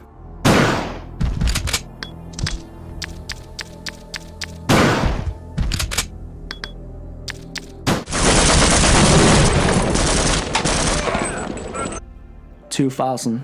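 Video game gunfire: sharp single shots early on, then a long sustained automatic burst of rapid fire, closing with a few more isolated shots; loud and close, with voices in the background.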